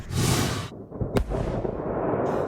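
Fireworks crackle and burst in a burning fireworks storage facility in California, with a dense, continuous roar of popping and one sharp loud bang midway, and no voices.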